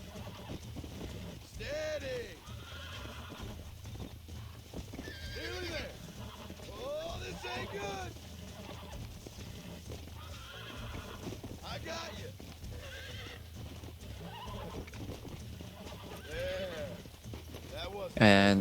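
Horse neighing and hooves clopping while being broken in Red Dead Redemption, with repeated whinnies and snorts rising over steady galloping hoofbeats and game ambience, close and fairly loud throughout.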